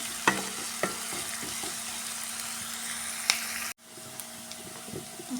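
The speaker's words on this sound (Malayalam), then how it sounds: "ഒരു ഗോൾഡൻ കളറാവണ വരെ വഴറ്റിയെടുക്കണം" Food sautés in a pan until golden, a steady sizzle and hiss under scattered clinks and scrapes of stirring. It cuts out for a moment and then carries on more softly.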